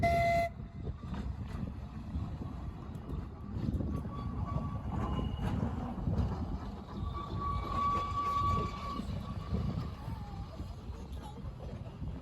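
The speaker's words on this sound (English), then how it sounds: "These trams may be small and old-fashioned, but they represent a happier time during the golden age of public transport in Britain" A small old-fashioned Seaton Tramway tram running on rails, a steady close rumble of wheels and motor with squealing metallic tones and a brief whistle-like note near the start.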